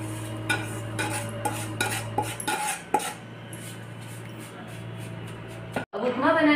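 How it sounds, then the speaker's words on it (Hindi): A metal spoon scrapes and taps against a pan as roasted semolina is scooped out onto a plate, a run of sharp clinks and scrapes over a low gas hum that cuts off near the end. "सूजी को प्लेट में निकाल लेते हैं।"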